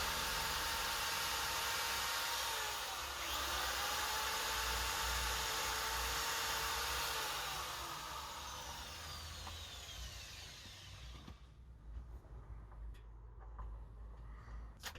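A power tool driving screws while fitting shelf brackets, a loud continuous whirring motor that holds steady, then eases off and stops, leaving faint clicks and handling noises.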